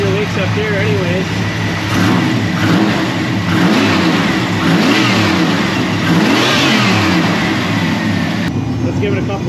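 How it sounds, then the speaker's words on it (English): Turbocharged engine in a Ford F150 with new motor mounts, revved a couple of times from inside the cab, giving a loud, continuous engine roar that rises and falls across the whole clip with speech-like sounds over it. "Let's give it a couple of revs from in the cab, see if we can get a turbo."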